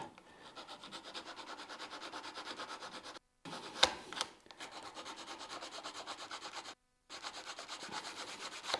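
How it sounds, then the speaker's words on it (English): Sandpaper glued to a popsicle stick rubbed back and forth in steady strokes, a soft continuous close-up scratching with two short breaks and a couple of sharper scrapes midway. "this is nothing more than some sandpaper attached to some popsicle"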